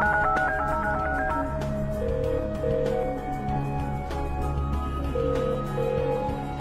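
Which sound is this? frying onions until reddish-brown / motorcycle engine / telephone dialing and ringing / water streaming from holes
telephone dialing and ringing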